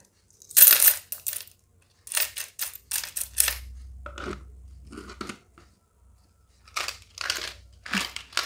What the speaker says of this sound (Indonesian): Langsung aja kita masukin ke toples uang koin.